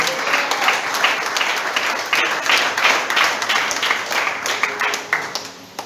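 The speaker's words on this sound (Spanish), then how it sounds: "Aplaudan conmigo." A church congregation claps along together, a sustained rolling patter of many hands with loose rhythmic accents, fairly close and bright, continuing for several seconds with faint crowd noise beneath.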